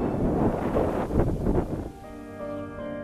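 Strong gusts roar and buffet straight into an outdoor microphone beside a lake on the Zbruch river, loud and continuous, then ease as a steadier tonal hum comes through.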